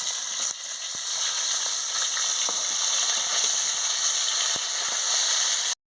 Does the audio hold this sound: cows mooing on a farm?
no